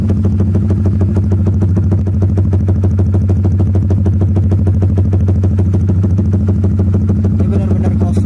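A Honda Supra GTR motorcycle fitted with a Proliner exhaust and no dB killer runs loud and close, its engine holding a fast, steady, throbbing idle with a rapid clattering pulse throughout.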